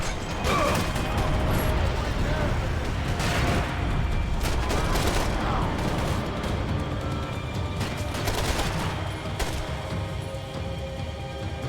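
Pistol shots and impacts crack repeatedly in Max Payne 3, loud and dense, overlapping into a chaotic firefight with debris and smashing noises.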